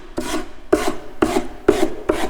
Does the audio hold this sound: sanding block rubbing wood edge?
yes